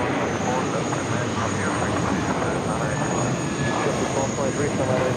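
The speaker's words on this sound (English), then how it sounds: "now taking off 4 left." An airliner takes off from runway 4 left at JFK, a steady, loud jet roar that fills the whole moment while control-tower voices talk over it.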